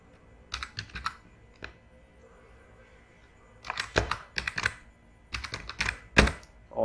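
Bursts of typing on a computer keyboard as an email signature is entered, clusters of close, crisp keystrokes separated by short pauses, with no talking.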